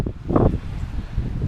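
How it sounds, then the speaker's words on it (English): Wind gusts across a Galveston Island waterfront, rumbling into the microphone in a short burst with a brief rustling swell, no one speaking. "It's gonna be windy, gonna be noisy."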